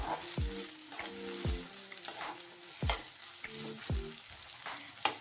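Onions frying in a pan for aloo masala for red chili dosa, a steady close sizzle with repeated spatula scrapes and stirring strokes roughly every second, no talking.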